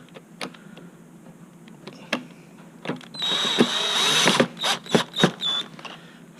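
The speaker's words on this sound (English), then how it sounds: "fastening the bolt" A power tool fastens a bolt while a Terrain/Ryder Tri gearbox is refitted, whirring in a few short bursts after scattered clicks and taps of handling, fairly close with no talk.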